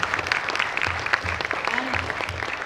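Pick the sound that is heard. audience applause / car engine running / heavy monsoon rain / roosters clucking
audience applause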